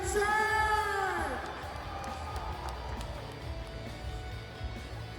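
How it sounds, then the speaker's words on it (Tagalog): A mall-show crowd cheers and whoops loudly at first, then settles into a steady mix of applause and chatter for several seconds. "Palakasin ng palakpakan naman kasamang hiyawan to, ha?"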